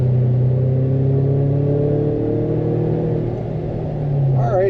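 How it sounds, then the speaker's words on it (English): A Toyota Tacoma 4Runner TRD Pro engine accelerates under throttle, a loud, steady low rumble with rising harmonic tones that climb for several seconds before easing off. "I'm going to give it some gas."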